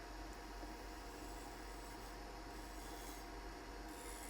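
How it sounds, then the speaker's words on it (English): A bowl gouge cuts a resin-dotted wooden vase spinning on a wood lathe at about 900 RPM, making a steady, continuous scraping rasp that holds at a constant loudness throughout, with no talking. "the lathe is running at about 900 RPMs, still with the bowl gouge, making it completely round"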